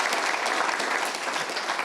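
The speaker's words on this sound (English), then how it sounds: "Oh, round of applause, yeah." Dense, steady applause from an audience at a retrofit-focused panel talk at the Building Centre in London, filling the whole moment without a break.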